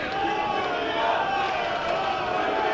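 Steady roar of a football crowd at Mourneview Park for a Northern Ireland U21 against Serbia U21 match, with travelling supporters adding to a dense, continuous wash of crowd noise.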